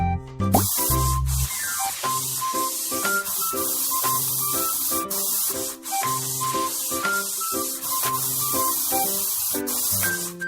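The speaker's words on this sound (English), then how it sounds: "Then spray the steel plate with paint." Spray paint hissing steadily onto a steel plate in the Baby Panda Car Mechanic cartoon game, a continuous loud spray beneath a cheerful looping game melody with chiming notes.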